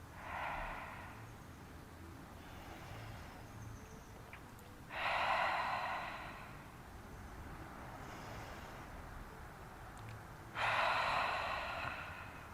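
Ujjayi yoga breathing: slow, audible inhales and exhales with a soft hissing throat sound. Two stronger breath surges stand out over quieter breathing, with a faint low rumble of traffic underneath.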